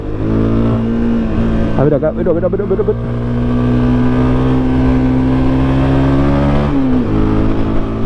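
A Honda CB 250 Twister motorcycle engine holding a loud, steady buzzing drone close by, briefly dipping near the end, while someone speaks over it.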